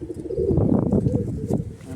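A Madrasi or Andhra pigeon, held up for sale in Howrah, gives low, throaty coos that pulse and bubble close by for the whole stretch, with no talking.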